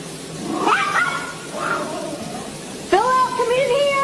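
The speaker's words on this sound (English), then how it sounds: "you can hear her pet freaking out in the background" A distressed pet cat in a kitchen yowls and caterwauls in drawn-out, wavering cries, with a sharp louder wail near the end, loud and close.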